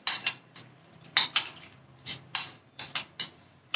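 A spoon mixes chopped onions and other ingredients for a green sandwich filling in a bowl. It gives a string of sharp, close clinks against the dish in an uneven rhythm, with quiet gaps between strokes.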